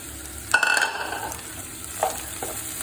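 Onion, capsicum, green chilli and ginger sautéing in a pan for prawn theeyal, a close, steady sizzle broken by a few clattering stirs of a spoon against the pan.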